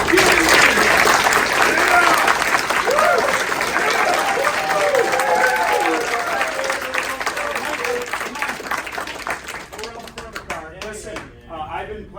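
An audience at a graduation show breaks into loud, dense clapping that holds strong for several seconds, then thins and fades toward the end.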